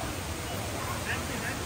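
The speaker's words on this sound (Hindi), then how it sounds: "Look the waterfall." Steady broadband rush of the large indoor waterfall at Jewel Changi Airport in Singapore, a constant wash of falling water with a voice speaking over it.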